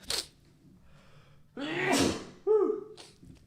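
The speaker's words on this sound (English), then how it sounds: "I'm about to sneeze" A person sneezes once, close to the microphone. A quick sharp breath comes first, then a brief drawn-in gasp, and finally a loud, forceful burst, all in an otherwise quiet room.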